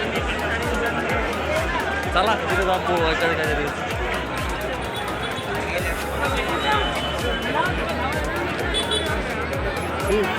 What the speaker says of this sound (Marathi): खूपच गर्दी मित्रांनो